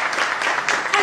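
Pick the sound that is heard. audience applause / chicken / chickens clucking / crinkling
audience applause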